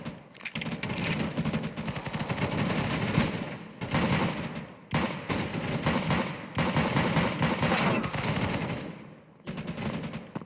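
A decoy grenade in a video game fakes gunfire in loud, rapid automatic bursts, several long strings of shots broken by brief pauses.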